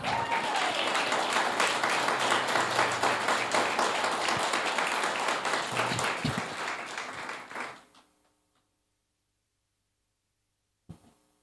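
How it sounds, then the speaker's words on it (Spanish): A church congregation breaks into sustained, dense applause filling the hall, steady for several seconds before fading out to silence, followed by a single faint knock near the end. "Denle un aplauso al Señor."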